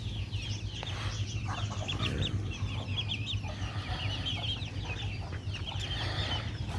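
Chickens on a small farm cluck in a steady, busy chorus, with a rooster among them on a warm morning; the calls are moderately close and continuous over a constant low background hum.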